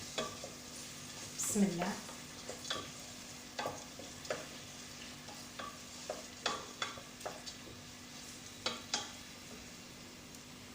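Soft stirring scrapes and faint sizzling come from a pot where ingredients for bulbula soup are being sautéed, irregular clicks and taps recurring quietly with a brief spoken phrase.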